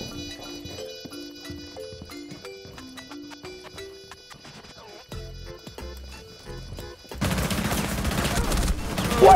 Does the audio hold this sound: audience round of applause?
no